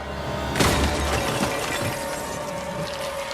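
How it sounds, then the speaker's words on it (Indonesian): A frozen human body topples and shatters like ice in a horror film sound effect: a sudden loud crash followed by a long spray of tinkling, crackling fragments, heard alone over a low background hum. "tubuh Reller jatuh dan hancur."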